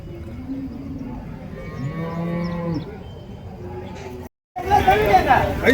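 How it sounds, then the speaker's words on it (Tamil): A pair of native cows low with long, drawn-out moos at the Orappam cattle market, then a burst of crowd chatter and market bustle takes over. "நாட்டு பசு மாடுங்க ஒரு ஜோடி எடுத்துகிட்டு வந்திருக்காங்க."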